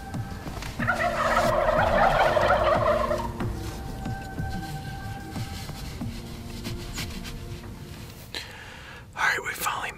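Wild turkeys gobbling on a snowy, frigid spring hunting morning in Florida, a loud rattling gobble near the start followed by quieter calls and outdoor background noise.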